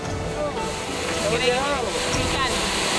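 Water pounding down the second cascade of Las Gemelas waterfall in Florián, Colombia, a steady close roar of falling water; a person speaks over the continuous rush.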